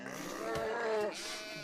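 Goats in the Medieval Dynasty video game bleat in a close, wavering call that swells in the middle of the short stretch and then trails off into quieter farm ambience.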